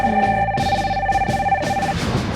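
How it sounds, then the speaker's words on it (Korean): Electronic telephone ringing sound effect, a bright warbling tone repeating in short bursts over a low background, loud and close. "전화가 수백 통이 와"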